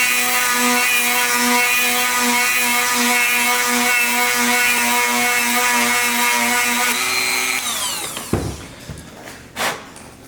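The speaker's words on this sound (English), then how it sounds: "So that is all that I'm gonna do with the Dremel. You can see it took that top layer off" A Dremel rotary tool whines steadily as it grinds a VW bus ball joint, loud and close, with a sustained high harmonic tone for about seven seconds before it winds down. A few scraping clanks follow as it stops.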